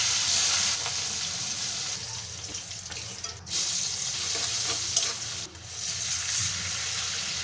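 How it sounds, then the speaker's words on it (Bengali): Rohu fish sizzling in hot oil in a kadai, a steady close broadband crackle with brief dips, no talking. "কড়াই গরম হয়ে গেছে, এখন তেল দিয়ে দিব। বাকি মাছগুলো দিয়ে দিব।"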